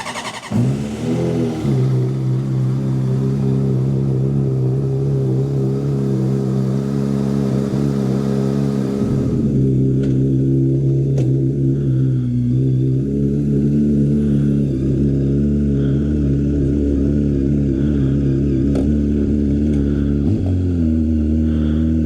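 A Honda CBR600RR motorcycle engine cold-starts and settles into a loud, steady idle with a couple of brief throttle blips, running close and continuously without talk.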